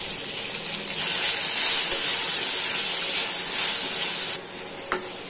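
Vegetables including capsicum and tomato fry in a pan for lauki manchurian, a steady close sizzle that swells louder after a second and drops back near the end, with a brief clink of stirring.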